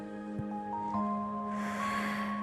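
A breathy exhale during a home exercise routine, a soft rushing breath rising late over a steady background of sustained music tones.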